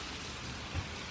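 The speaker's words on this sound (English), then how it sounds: "it's pouring. Thunderstorm right now." Heavy rain pours steadily during a severe thunderstorm in Brooklyn, New York, a brief dense hiss of downpour with a faint low rumble underneath.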